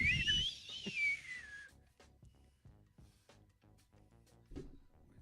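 A person whistles a rising-and-falling tune in imitation of a knife sharpener's afilador whistle, loud and close for about a second and a half, then gives way to quieter indoor sounds and faint voices at a home trivia game.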